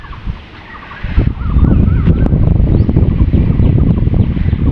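Strong wind blows hard on a cloudy, overcast day, a loud continuous roar buffeting the microphone after a quieter opening second.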